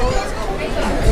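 A dense crowd chattering at the Doddabetta peak viewpoint in the Ooty hills, many overlapping voices blending into a close, steady murmur for a brief moment.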